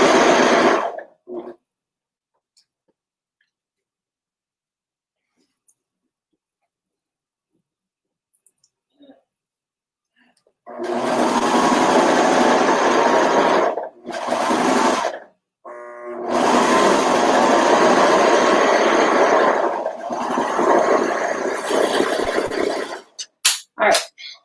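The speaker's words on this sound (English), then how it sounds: "I'm just laying it on the neckline and stitch and serging them together." A serger stitching a knit neckline band onto a t-shirt, heard as loud, steady bursts of motor whir, three long runs separated by short pauses after a quiet start.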